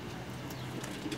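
A racing pigeon at a loft in Jeddah, Saudi Arabia, coos softly in low, throaty pulses over a steady, noisy background, with no voices.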